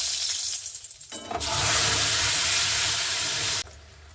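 Tomato paste hits hot oil already tempered with dried red chilli, whole cumin, cinnamon and cloves, bursting into a loud, hissing sizzle that holds for a couple of seconds before cutting off, while cooking a vegetarian green jackfruit curry.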